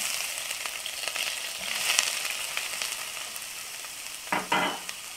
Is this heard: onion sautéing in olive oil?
yes